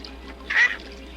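A mallard duck quacks once in a short, moderately loud burst over a quiet outdoor background, without any talking.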